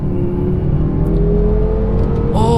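A BMW M6 Gran Coupe accelerates hard in 2nd gear, with a loud, steady engine drone rising slowly in pitch from inside the car, and a brief higher whine near the end.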